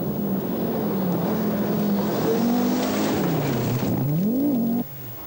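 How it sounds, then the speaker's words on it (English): A turbocharged Audi Quattro rally car, driven by Waldegard through dusty gravel stages of the 1982 Welsh Rally, revs loud and close, its engine pitch rising and falling as it changes speed. "Waldegard powers the turbocharged Quattro through the dusty gravel stages to maintain his lead"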